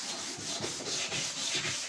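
A sheepskin polishing pad on a drill buffs the fuel tank of a 1993 Honda CR 125R. It makes a close, continuous rubbing swish that pulses gently as the pad sweeps across the metal.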